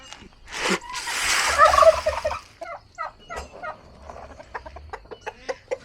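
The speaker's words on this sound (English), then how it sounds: "There's that rooster." A rooster crows loudly in a long ragged call close by, then chickens and turkeys cluck and gobble in short sharp repeated bursts around a farmyard.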